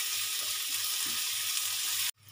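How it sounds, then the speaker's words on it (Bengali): Chopped tomato with garlic and ginger paste sizzling steadily in a pan, a bright continuous frying hiss close by with faint stirring, cutting off abruptly near the end. "টমেটো কুচি, রসুন পেস্ট, আদা পেস্ট, এগুলো সব দিয়ে ভালো করে 5 মিনিট 6 মিনিট ধরে কষিয়ে নেব।"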